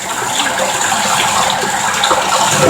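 Water runs steadily while pen dye is rinsed out of hair, a loud, close, continuous gushing stream with no voices over it.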